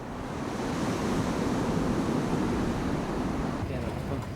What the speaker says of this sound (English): Our ship is constantly exposed to the swell.